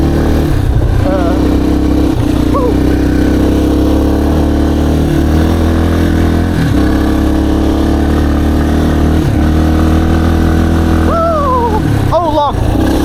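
A dirt bike engine drones loudly and continuously on a trail, rising and falling in pitch with throttle and gear changes, close to the rider, and a voice talks over it.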